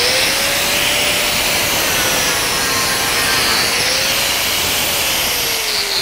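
Angle grinder grinding a metal art piece, a steady loud abrasive hiss and whine that runs unbroken throughout with a faint shifting pitch and no voices.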